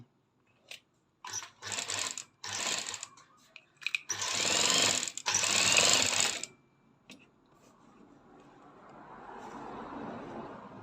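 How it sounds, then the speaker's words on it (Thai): An industrial sewing machine stitches plain fabric after a rotary hook adjustment, in short rattling bursts and then a longer steady run, loud and close, followed by softer mechanical noise. "เดี๋ยวลองเย็บกันนะครับ ดูว่าจะกระโดดไหม"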